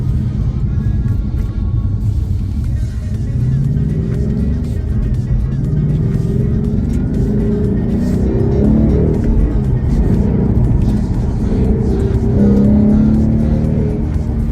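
Ford Mustang 5.0 GT with a manual gearbox, its engine accelerating in a steady, loud, low rumble that holds for the whole stretch and rises in pitch now and then as it gains speed, with no talk over it.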